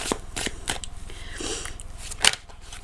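A deck of cards riffled and shuffled close by, with quick fluttering bursts and a sharp snap near the end, no talking.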